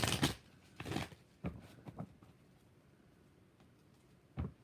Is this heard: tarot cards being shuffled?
yes